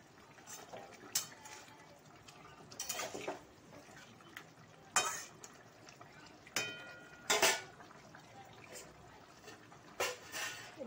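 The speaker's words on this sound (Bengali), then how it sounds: "এবার একটু ফুটতে দেবো এটাকে" Katla fish curry cooks in a pan on the stove, with a quiet simmering bubble beneath scattered sharp clinks and scrapes of a spoon against the metal pan at irregular intervals.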